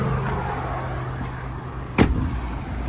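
A 2018 Renault Trafic van's 1.6 diesel engine idles steadily with a low, even hum, broken around the two-second mark by a brief sharp knock or click.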